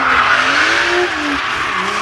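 A JDM Toyota drifting: loud, close tire squeal and skidding that rises and bends in pitch over a constant engine roar, with no talking.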